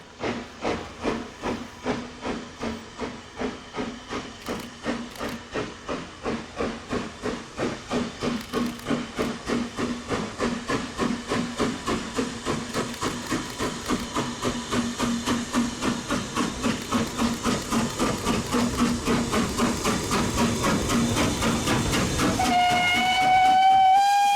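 Steam locomotive pulling into the Severn Valley Railway during a winter gala, its exhaust chuffing in a steady rhythm that grows louder as it nears, with a hiss of steam and a whistle sounding near the end.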